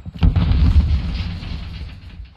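A heavy cannon boom in a video game bursts close and loud, then rumbles and fades over a couple of seconds.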